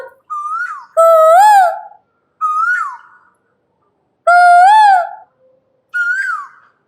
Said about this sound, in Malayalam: കുയിലുകളുടെ ശബ്ദം